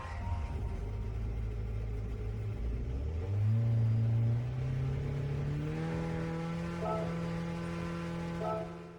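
Revving of a swapped-in engine taken from a Lexus SC430, heard inside the Gran Turismo 7 racing game: a steady low rumble rises and holds, with overlapping engine tones climbing in pitch, loud and close, without speech.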